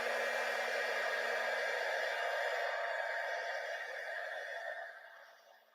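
A heat tool used for craft embossing blows a steady, close airy whoosh with a faint hum, then fades out as it is switched off.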